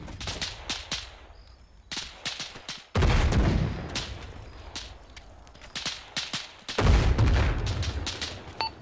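Arma 3 gunfire, loud sharp rifle cracks in quick bursts and single shots, with heavier booming volleys standing out twice amid a busy firefight.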